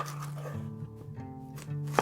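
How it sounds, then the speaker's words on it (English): A yellow onion being chopped on a cutting board, a few close, crisp knife strikes heard under low background hum, with no talking. "we're just going to cut this yellow onion up"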